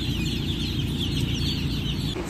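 Eight-day-old broiler chicks fill a dimly lit poultry house with a dense, steady chorus of high peeping and clucking over a constant low ventilation hum, fairly loud and close.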